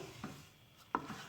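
Gram flour roasting in a wok gets stirred for besan laddu, two soft scraping strokes of a spoon against the pan over a quiet background, faint and close.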